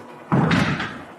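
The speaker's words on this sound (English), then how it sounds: "what you heard was me shutting this door." A door is shut inside an old mansion, one dull close thud followed by a short fading rumble.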